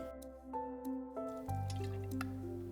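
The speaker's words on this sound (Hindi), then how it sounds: "अब मैं इसमें डालूंगी थोड़ा सा पानी।" Water is poured from a pitcher into a jar of mango mixture for aam panna in a home kitchen, a gentle dripping, trickling fill under steady melodic background music.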